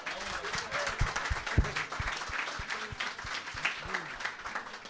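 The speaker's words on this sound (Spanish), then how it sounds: "otra vez el aplauso para las Morenas del Caribe" Audience applause for the Morenas del Caribe, a steady wash of clapping across a studio crowd, with a voice talking over it throughout.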